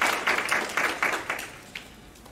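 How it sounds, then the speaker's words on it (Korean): A brief burst of scattered audience clapping at a seminar before a presentation, fairly quiet, with a handful of distinct claps fading out within two seconds. "여러분 박수 부탁드립니다."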